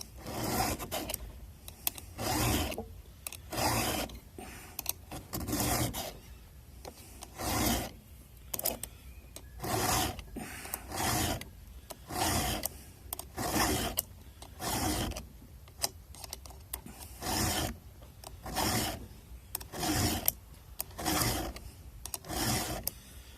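A round file sharpens chainsaw teeth, its rasping strokes repeating in a steady rhythm of about one per second, close and fairly loud, with no talking.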